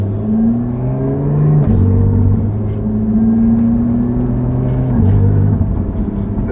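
Lotus Evora 400, a mid-engine rear-wheel-drive car, pulling hard under acceleration, its engine drone climbing in pitch, dropping sharply at two quick gear shifts, then rising again; the rumble is close and loud.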